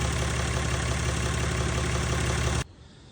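A diesel engine idles steadily with a low, even rumble, then cuts off abruptly near the end, leaving quiet background.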